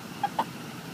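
Two short clucks from a chicken, a quick pair of brief calls over a quiet background hum.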